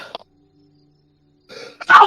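A single sharp sneeze bursts out after a brief silence, preceded by a faint intake of breath and a short vocal sound.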